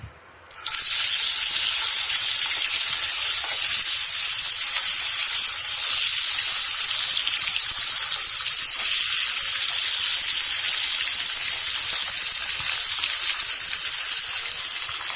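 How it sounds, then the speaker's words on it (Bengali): Fish sizzles in hot oil in a kadai, a loud, steady, bright hiss that starts abruptly and holds unbroken for the whole stretch with no talk. "আমরা মাছটাকে একটু সামান্য একটু ভেজে নেব। ওর জন্য কড়াইতে তেল দিয়েছি।"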